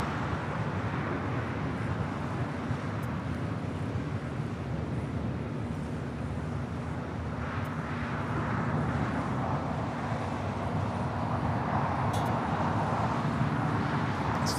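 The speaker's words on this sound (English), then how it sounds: "the 777 touching down here on the south side" A Boeing 777 touches down on the south-side runway at LAX, heard as a steady, broad roar of jet engines and airport rumble that stays even and fairly loud throughout, with no voices.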